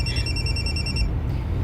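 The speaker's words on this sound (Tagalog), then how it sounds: "Kaya nanawag na si Aida" A telephone rings for an incoming call, giving a bright, close electronic trill over a low background rumble during a brief moment.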